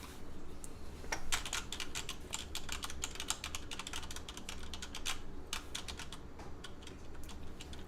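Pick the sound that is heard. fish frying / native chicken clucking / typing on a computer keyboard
typing on a computer keyboard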